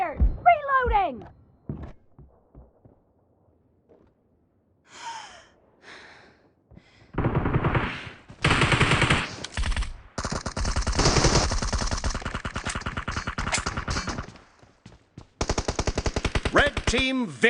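Automatic rifle fire in a PUBG team deathmatch comes in long, loud bursts of rapid shots, broken by quiet gaps with breathing and short gasps, and a voice speaks briefly near the start.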